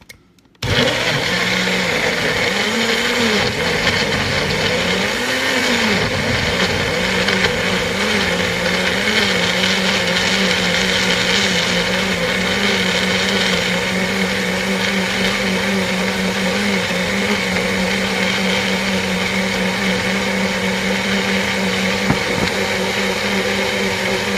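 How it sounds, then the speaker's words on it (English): A blender whirs loudly and steadily, blending oranges and bananas into a smoothie. It starts abruptly after a brief quiet moment and runs continuously with a slightly wavering pitch. "So I'm just gonna blend this real quick."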